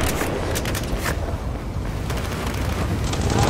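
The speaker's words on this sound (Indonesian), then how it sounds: "Oh, ledakan gas." A gas explosion in Battlefield 4 rumbles into a broad, noisy roar with several sharp cracks near the start, followed by sustained gusty blast noise.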